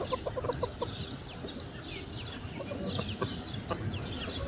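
Chickens cluck repeatedly beside a homestead barn that leads to a compost area and a long summer run, with many short overlapping calls heard fairly close over a quiet background.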